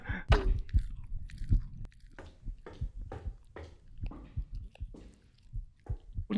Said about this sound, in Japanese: その咀嚼音やめてくれない？